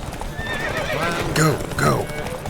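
A horse in The Witcher 3 whinnies twice in quick succession over rapid galloping hoofbeats during a race, loud and close, with game speech mixed in.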